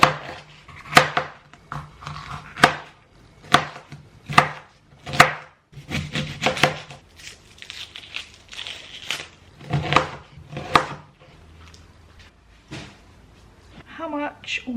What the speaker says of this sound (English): So I'm gonna cut these up first, then we'll start with the chicken and the rice.